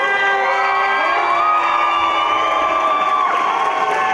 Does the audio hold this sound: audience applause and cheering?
yes